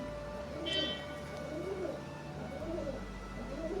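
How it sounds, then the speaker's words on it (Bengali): Pet bird giving repeated soft cooing calls over a steady background hum, moderately close. "ওদিকে আমার পিঙ্কুও ডাকাডাকি শুরু করেছে"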